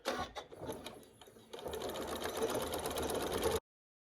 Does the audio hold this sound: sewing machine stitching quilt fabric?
yes